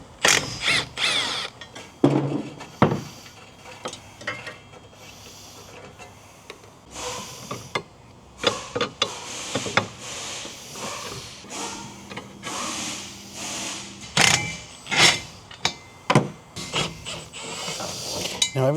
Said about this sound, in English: we're going to strip off the aluminum factory motor mount from here